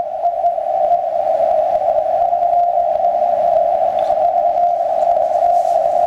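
A CW Morse signal comes through a ham radio receiver, an Icom IC-7300 and a Yaesu FT-710, as one steady, unbroken tone sitting clearly above faint background hiss with no talking.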